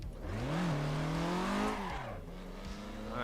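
An old-school car in a racing sim game on LA canyon roads revs loudly with a strong rising and falling engine tone, then settles into a lower steady drone as it eases off, close and alone.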